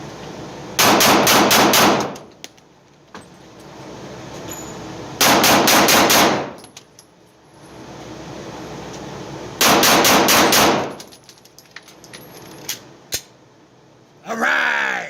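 Three rapid five-round strings of 9mm pistol fire from a micro compact carry pistol on a range, each burst a loud dense volley separated by quiet pauses, with faint talk in between.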